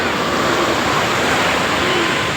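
Ocean waves wash onto a beach in a constant, loud, close roar of surf that fills the whole stretch without clear breaks.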